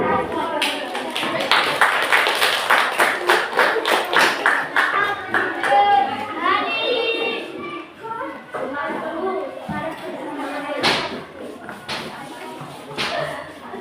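Schoolchildren clap together in a burst of applause at an elementary school quiz competition final, their loud, dense claps mixed with chatter and children's voices filling the room.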